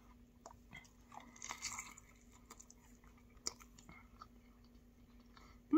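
Biting and chewing into a pork roll, egg and cheese breakfast sandwich from a bagel shop, with soft crunches and moist mastication sounds close to the mic, a few sharper bites standing out in a quiet room.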